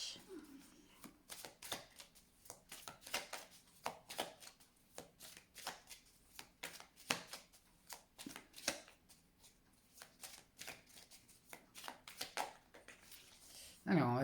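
Tarot cards being shuffled and cut in a quiet room, a steady run of soft, quick riffling clicks and slaps across the whole stretch, close and fairly faint, with a louder card knock at the very end.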